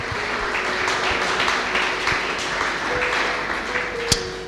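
A church congregation applauds for Jesus with sustained, dense clapping that carries steadily throughout, while voices murmur and call out underneath.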